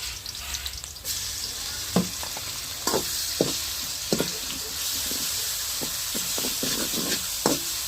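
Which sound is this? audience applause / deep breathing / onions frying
onions frying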